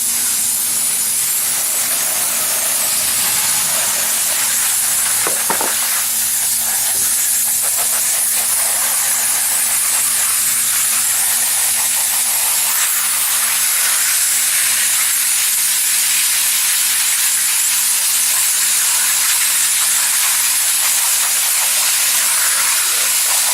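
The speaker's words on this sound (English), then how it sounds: "put my 20 mesh screen, and then just hose this through" Garden hose spraying water hard through a 20 mesh screen into a pan while washing fine gold concentrate, a loud, steady, close hiss that barely changes from start to finish.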